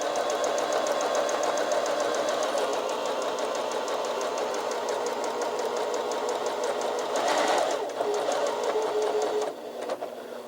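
A sewing machine runs steadily at speed as it stitches through a Kleenex tissue, a continuous close mechanical whir with a fast even rhythm and a brief change in tone near the end.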